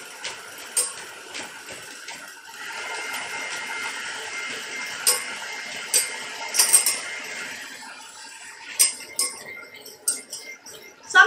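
A metal spoon chinks and clinks against a container while scooping stuck sugar for a matcha azuki cake, giving scattered bright taps in irregular clusters, close and fairly quiet, with no talking.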